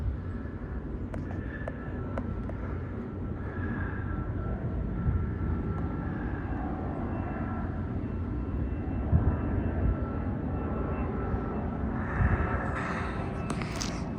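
A twin-engine airplane flying overhead, a steady broad engine drone that holds fairly loud and even throughout with no voices.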